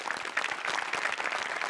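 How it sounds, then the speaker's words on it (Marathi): An audience claps for Amol Patil in a short, moderate burst of steady applause with no voices. "प्रसादा, अमोल पाटीलसाठी एकदा टाळ्या वाजवल्या पाहिजेत"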